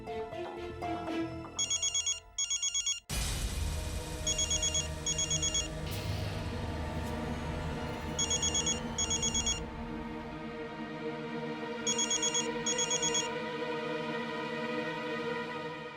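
A telephone rings in repeated electronic bursts of trilling tones, paired double rings recurring at regular intervals over a sustained musical background.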